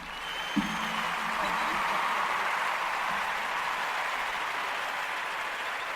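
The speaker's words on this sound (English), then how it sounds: "Round of applause." A round of applause on a ladies' night radio show follows a game, a soft, even wash of clapping that holds steady throughout, with a brief thump near the start.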